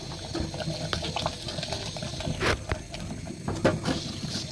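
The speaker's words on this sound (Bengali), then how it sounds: "এই যে গরম মশলা এখন নাড়বে।" Handi chicken with garam masala is stirred in a pot, giving irregular scraping and bubbling sounds with sharp clinks of a spoon against the metal, close and continuous.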